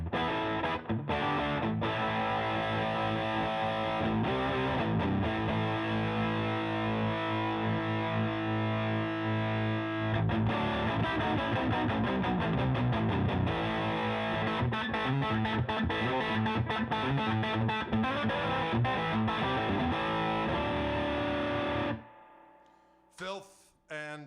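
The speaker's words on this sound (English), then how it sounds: "I've got the overdrive on, the overdrive gain boost, and the OTS, and then the reverb on the amp." Heavily distorted electric guitar through an overdrive pedal with gain boost and amp reverb plays sustained chords and riffs for about twenty seconds, loud and thick, then cuts off abruptly.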